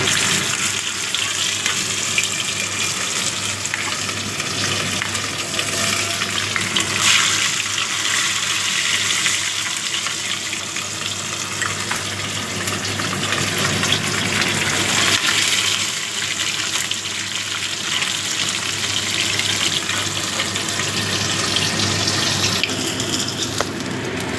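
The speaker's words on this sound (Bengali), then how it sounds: "বন্ধুরা তেলটা আমার ভালো মতো গরম হয়ে গেছে এবার আমি মাছগুলো ভেজে নেবো" Parshe fish sizzling in hot oil in a pan, a steady, loud, hissing fry that runs unbroken from start to finish with no voices.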